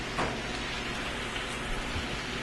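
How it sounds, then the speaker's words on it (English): Soft, continuous hissing of asparagus and greens steaming in a pan, a steady close-up patter with no voices. "That asparagus is steaming, the greens are steaming."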